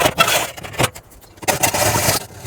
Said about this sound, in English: I found my hacksaw. We're gonna see how this does.